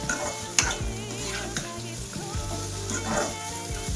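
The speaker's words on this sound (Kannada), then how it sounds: "ಮೆಣಸಿನ್ಕಾಯಿ 1 ನಿಮಿಷ ಫ್ರೈ ಆಗಿದೆ, ನೋಡ್ತಾ ಇರ್ಬೋದು." Green chillies, slightly ripened, sizzle and crackle steadily in hot oil in a pan while being stirred, with occasional sharp clinks of a spoon against the metal, close and continuous.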